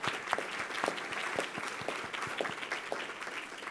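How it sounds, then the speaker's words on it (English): Audience at an arts and culture forum applauding steadily, a dense wash of many hands clapping at moderate distance, sustained evenly throughout. "let's give Carol a round of applause"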